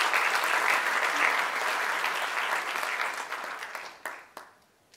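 An audience at a violin concert event in Dubai applauds loudly and evenly for about four seconds, then trails off into a few last isolated claps.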